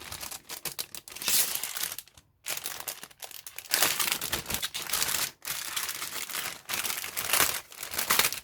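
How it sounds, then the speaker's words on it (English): A plastic bag of parts for a 1/48 scale Cessna O-2A Skymaster model kit crinkles and rustles up close, in bursts with short pauses as the parts are handled. "It's just one bag of plastic."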